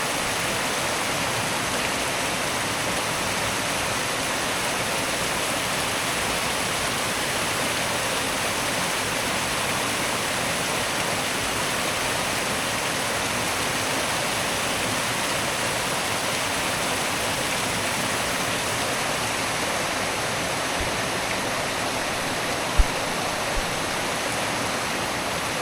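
A mountain river on a White Mountains trail in New Hampshire rushes with a steady, loud, even hiss of flowing water that stays unbroken throughout, with no voices.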